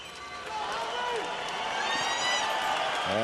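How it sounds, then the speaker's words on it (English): Arena crowd at a heavyweight boxing event roars and cheers for Sultan Ibragimov, a steady dense wash of voices and whistles throughout, swelling slightly toward the end with a commentator talking over it. "The crowd getting excited about this man, Sultan Ibragimov"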